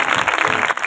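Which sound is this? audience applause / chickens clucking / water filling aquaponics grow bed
audience applause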